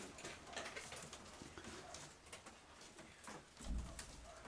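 Soft pigeon coos sound faintly amid rustling and scattered tapping, with a low thump near the end.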